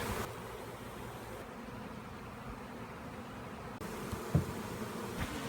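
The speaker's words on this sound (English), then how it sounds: "You see them headed towards the box, fanning for the box." A honey bee swarm fans at a hive box, making a steady, dense droning buzz that holds evenly throughout with no voices.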